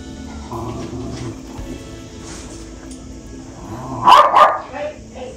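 A pregnant adult dog barks a few times in a quick burst near the end, following a stretch of quieter background with muffled voices.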